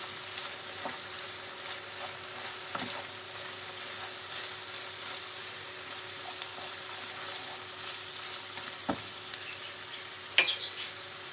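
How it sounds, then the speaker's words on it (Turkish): Chicken pieces sautéing in a pan give a steady, even sizzle throughout, with a few faint clinks now and then and no voices. "Birkaç dakikada bu şekilde sotelensin."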